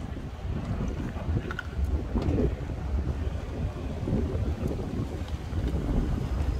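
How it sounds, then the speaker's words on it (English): Cold wind gusting steadily outdoors on a city walk through the City of London, a continuous low roar and buffeting against the microphone with no speech. "Cold and windy."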